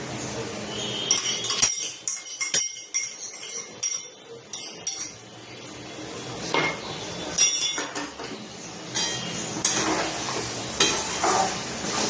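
Meat is stir-fried with a paste of crushed fried onion in a pan, giving a continuous sizzle with scraping spatula strokes and sharp metallic clinks against the pan, close and loud, with no talk.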